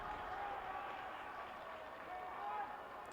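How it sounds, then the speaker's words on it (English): A stadium crowd cheers and applauds at a track and field championship high jump event: a steady, dense roar of many voices that swells slightly near the end, heard at a distance with no clear speech. "You can hear the crowd."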